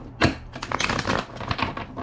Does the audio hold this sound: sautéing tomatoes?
no